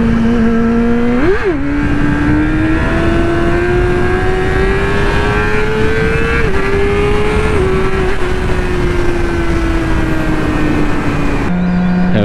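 A sport motorcycle, likely one of a GSXR 1000, Yamaha R6 or Ninja 400, revs loudly as it passes by close, its engine note rising and shifting pitch through a steady high-rpm drone before a sharp change near the end.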